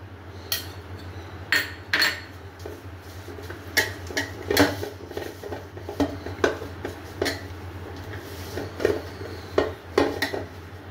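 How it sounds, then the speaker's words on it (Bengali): Ghee is smeared inside a metal cooking pot for egg biryani, with a series of close clinks, taps and scrapes of a utensil against the pot in an uneven rhythm over a low hum. "ডেচকিটার মধ্যে আমি একটু ঘি মাখিয়ে নেবো।"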